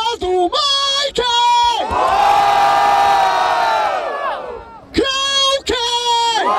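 A crowd at a rap battle final shouts and cheers in loud, chanted bursts, with a long sustained roar in the middle and rhythmic group yells before and after, close and energetic.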